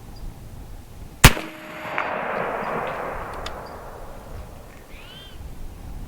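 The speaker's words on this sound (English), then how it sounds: "I am shooting shot out of a barrel" A single sharp blast from an air-powered 12 gauge shotgun firing real buckshot, loud and close, followed by a fading rumble and distant faint birdsong.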